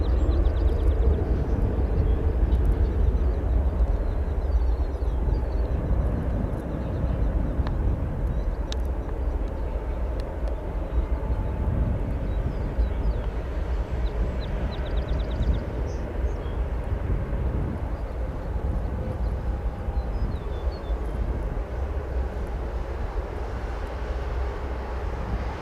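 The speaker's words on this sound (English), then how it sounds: "Coming over, we have an EVA Air Boeing 777 coming in from Taipei" An EVA Air Boeing 777 arriving from Taipei at O'Hare Airport passes with a steady, broad jet engine roar, a constant low rumble and wash that stays fairly even throughout at moderate distance.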